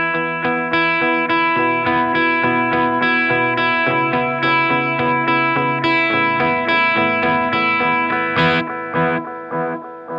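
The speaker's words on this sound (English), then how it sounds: "So when you switch up to the top, the tap you set is the tap you get" Electric guitar with distortion played through a Holy Era tap tempo delay pedal on its full-time setting, chords and notes echoing in steady repeats at the tapped rate, loud and continuous with no talking.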